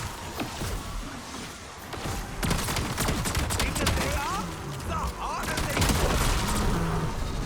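Gunfire from classic weapons in Black Ops 7 Zombies, with repeated bursts and sustained shooting mixed with game effects over several seconds, while people talk over it.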